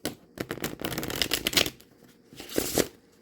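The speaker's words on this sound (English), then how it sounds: "they are flexible enough that I can shuffle" Tarot cards from a Greenwood Tarot deck are shuffled in quick riffling bursts, two rapid flutters separated by a short pause, close by.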